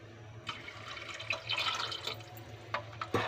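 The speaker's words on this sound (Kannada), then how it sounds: "ನೀರು ಹಾಕಿ ರುಚಿಗೆ ತಕ್ಕಷ್ಟು ಉಪ್ಪನ್ನು ಹಾಕ್ತಾ ಇದ್ದೀನಿ." Water is poured onto rice in a pot for green egg biryani, making a soft, uneven splashing and trickling up close with a few sharper drips and clinks.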